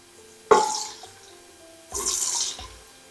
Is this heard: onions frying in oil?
yes